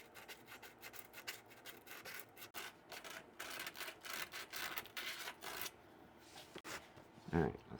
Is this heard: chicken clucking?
no